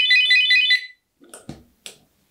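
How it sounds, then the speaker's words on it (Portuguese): A loud electronic car alarm siren, an FKS FK905, warbles for under a second, then stops, followed by a few sharp clicks and knocks. "Disparou. Sirene, pisca e sirene, e piscando lá."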